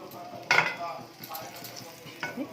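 Hot tempering poured over chopped raw onions bursts into a sharp sizzle, followed by softer frying hiss, light stirring clinks and a second short flare of sizzle near the end.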